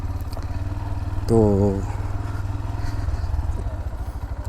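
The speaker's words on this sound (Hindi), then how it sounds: "मोटरसाइकिल इधर खड़ी कर दूँ" A motorcycle runs with a steady low engine drone at the Torkham border gate between Pakistan and Afghanistan, close and continuous for the whole stretch, with a brief louder burst of talk partway through.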